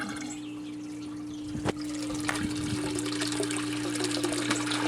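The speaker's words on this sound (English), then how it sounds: "I'll lower this down just into the water a little bit, and you'll see that it'll still start a siphon." Water gurgles and rushes steadily in an aquaponics tank as a bell siphon kicks in, with a sharp knock partway through followed by continuous flowing, draining water close by.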